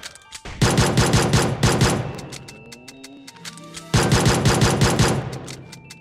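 Automatic gunfire in the game PUBG Mobile, two long rapid bursts of loud, close, evenly spaced shots separated by a brief lull with a few scattered rounds and mechanical clicks.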